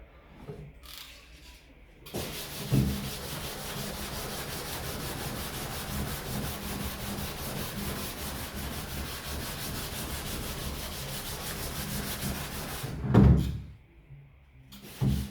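Steady hand sanding of boat gelcoat, a continuous dry rasping scrape that runs for about ten seconds, close by, with a few knocks at the start and end.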